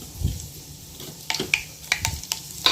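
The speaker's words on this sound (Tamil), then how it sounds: "இப்போ இதில் வெந்தயத்தையும் சீரகத்தையும் சேர்த்துக்கணும் இது நல்லா பொரியட்டும்" Fenugreek and cumin seeds frying in hot oil for a tamarind curry, a light sizzle with several sharp crackles and pops scattered over a steady fizzing background, close by.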